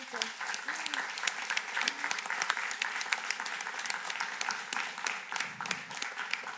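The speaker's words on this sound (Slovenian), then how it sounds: "prosim en aplavz" Audience applause at a village event, dense steady clapping from a crowd that carries on evenly throughout, with a voice briefly audible beneath it.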